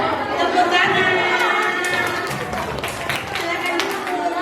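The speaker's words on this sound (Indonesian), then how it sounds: "Tepuk tangan." Scattered clapping from a crowd at a World Rabies Day veterinary health event, building in the second half under ongoing chatter and voices.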